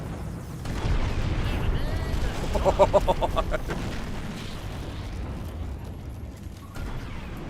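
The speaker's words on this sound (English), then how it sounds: "Turning for torpedo run. Hang on. Torpedoes away!" Torpedoes launched and detonating in the naval space battle game Treasure Planet: Battle at Procyon, a continuous heavy rumble with booming blasts swelling in the middle, under light talk.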